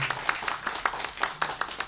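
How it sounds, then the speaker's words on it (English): A short burst of applause at an annual general meeting after a speech, several hands clapping in an irregular patter for about two seconds, moderately loud and close. "Let's give him another round of applause"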